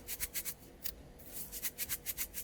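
Soft, rhythmic rattling swishes from a drinking-water filter cartridge being shaken, repeated in quick bursts with a brief pause midway, close by and fairly quiet.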